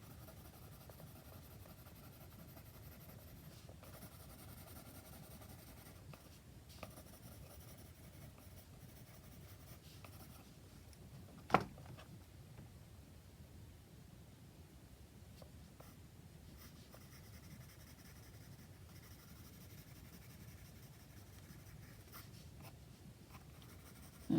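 A pencil sketches a blackbird on paper: quiet, continuous scratching and light strokes close by over a low background hum, with one sharp tap partway through.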